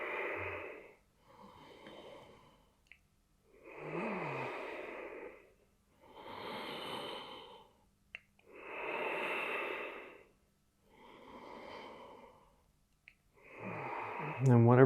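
Slow, deep breathing during a yoga twist, with about seven unhurried breaths separated by short pauses, close and fairly quiet, some carrying a slight wheezy edge.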